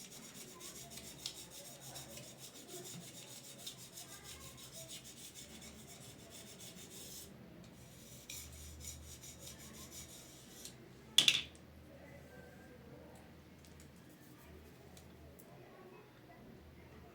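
A kite's bamboo bow on a medium frame is scraped thinner, giving a faint, steady rasping rub with one sharp click near the end.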